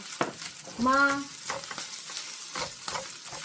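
Fried chicken being stirred into ketchup in a hot pan, a soft sizzle and scraping stir running steadily, with a brief bright tonal squeak near the start.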